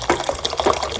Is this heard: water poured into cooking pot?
yes